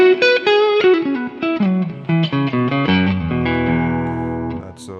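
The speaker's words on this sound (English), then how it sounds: "I'm just going to kick in a bit of reverb here." Clean electric guitar through a Digitech Hardwire RV7 reverb pedal into a clean amp, playing a run of single notes and chords that ring out with a lingering reverb tail, loud and close.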